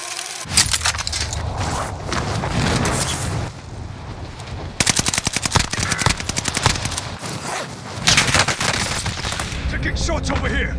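Automatic and single gunfire in the battle royale game Call of Duty: Warzone, trios mode, with rapid bursts of shots that start, pause and resume, loud and close and mixed with other battle noise.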